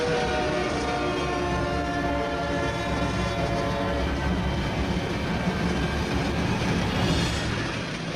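A cartoon train approaches with a loud, sustained horn blast over a rumbling, clattering engine, the sound steady and close throughout with no voices.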